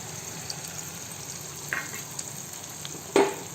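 Turmeric gets stirred into gongura pickle in a pan, giving a soft, steady sizzle with a couple of sharper scrapes of the spoon against the pan, close and fairly quiet.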